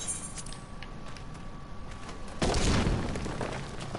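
Fire sand explodes in the Copperbell Mines dungeon of Final Fantasy XIV, a single sudden booming blast that cuts in midway over a low game ambience and then decays slowly.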